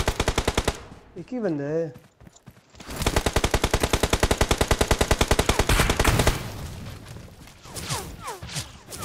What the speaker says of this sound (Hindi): मैं गोली पड़ रही है पीछे